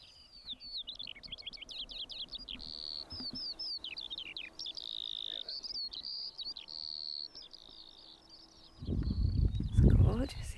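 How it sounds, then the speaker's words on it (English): Songbirds chirp and trill on a calm morning, a string of quick high whistled phrases close by in a quiet setting, ending with a burst of louder rustling and low thumps near the microphone. "And all you can hear are these beautiful birds."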